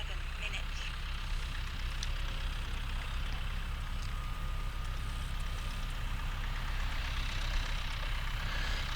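A small electric RC model airplane, an Apprentice S 15e, flies overhead with a steady, continuous motor drone and wind buzz, fairly distant and unbroken, with no talking.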